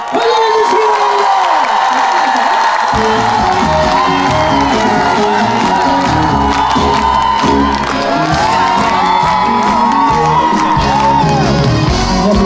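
Large outdoor crowd at the opening ceremony of a Korean beef festival applauds and cheers, loud and continuous with whoops and shouts, while music and singing start up partway through.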